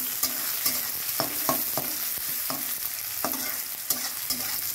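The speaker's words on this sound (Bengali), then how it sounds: "খুব একটা ভাজবো না, কারণ পেঁয়াজের সঙ্গে পুঁই মুচড়িগুলোও ভাজা হবে" Onions sizzle steadily in hot oil while a spatula scrapes and stirs the pan in regular strokes, close and continuous, with no voices.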